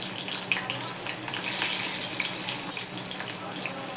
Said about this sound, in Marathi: कांदा पण टाकून घेते